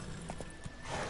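Horse hooves in a video game, a few quick clip-clop beats over a noisy background in a short burst.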